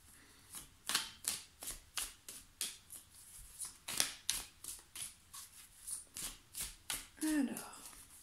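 Oracle cards shuffled by hand in a quiet room during a full-moon reading, a rapid run of crisp riffling slaps repeating about twice a second, close and fairly soft, with a brief voice near the end.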